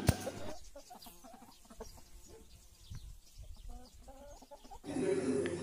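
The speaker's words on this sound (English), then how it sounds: "H for hen." A hen clucking in a series of short, choppy calls with pauses between them, fairly close and clear, set against a quiet background that turns into a louder noisy bed near the end.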